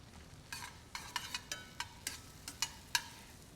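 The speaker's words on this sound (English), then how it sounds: "I'm going to add some beautiful mushrooms." Quartered mushrooms and shallots sautéing in butter, a quiet background sizzle broken by a string of soft, evenly spaced clicks and scrapes from stirring.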